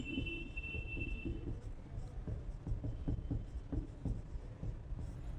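Chalk or marker scratching on a board during a Hindi-language chemistry lecture on atomic structure, a series of faint, quick strokes in an irregular rhythm under a low room hum, with no clear speech over it.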